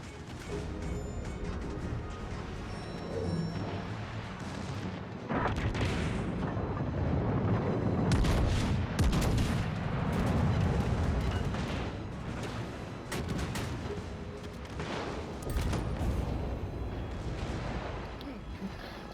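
Battlecruiser Schlieffen firing heavy naval guns in World of Warships Legends, repeated deep booms and crashing impacts rolling over constant engine rumble and battle noise.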